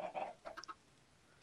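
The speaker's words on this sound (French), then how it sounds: "je nourris les poulets" Chickens cluck in the Minecraft video game, a few short soft clucks in the first three-quarters of a second, then quiet with one brief sharp click at the end.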